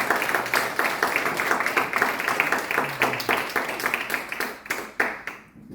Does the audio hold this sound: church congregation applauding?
yes